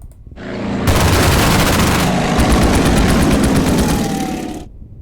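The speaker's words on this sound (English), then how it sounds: "It's my anti-tank gun." An anti-tank gun fires in a WW2 Pacific strategy game, a loud, sustained burst of rapid rattling shots with booming low end that rises quickly, holds for several seconds and cuts off abruptly.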